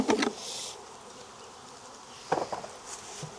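A small swarm of honeybees near a hive in a Jacksonville, Florida apiary buzzes in brief close passes, a short hum at the start and another a couple of seconds later over quiet background.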